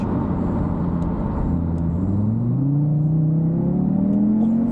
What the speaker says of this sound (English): Let's see if I can do rolling launch.